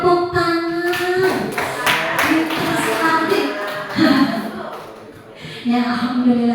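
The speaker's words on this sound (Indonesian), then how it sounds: "tepuk tangan." Audience of teachers clapping along in a rhythmic Indonesian classroom clap routine, a quick patterned burst of hand taps with short pauses, close and fairly loud, mixed with voices.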